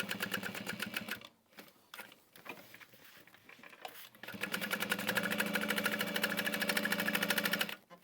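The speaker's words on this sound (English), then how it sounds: "So we're only top stitching on the sides." A sewing machine top stitches the sides of a bucket bag, its needle running in rapid, even bursts with brief pauses between, then settling into a long steady stretch of close, loud stitching.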